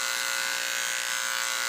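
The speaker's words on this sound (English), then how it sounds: "make sure that the edge of the shaver lines up with the inside edge of the interior pad" An electric dog shaver buzzes steadily at close range while trimming hair between a dog's paw pads, a constant high whine with no break or voices.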